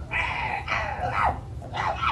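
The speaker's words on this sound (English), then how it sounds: "Stop barking. Barking is not cool." A dog gives a few close, loud barks and yips in quick bursts, separated by brief pauses.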